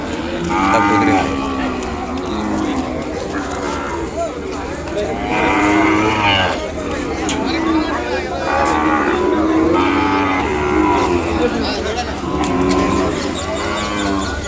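Several cattle and calves moo repeatedly at the Kodad livestock market, long low calls overlapping at varied distances, amid a busy crowd murmur and people talking.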